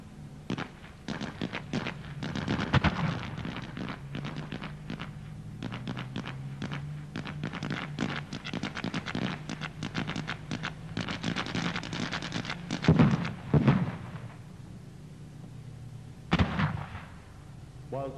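Rapid crackling gunfire with heavier blank-fire explosions from a military tattoo battle re-enactment at the 1990 Colchester Searchlight Tattoo, a dense sustained barrage with a few louder bursts near the end, distant in an open arena.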